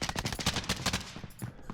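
Rapid automatic gunfire in a Warzone match, a dense burst of close, loud shots running nearly the whole time and tapering off near the end.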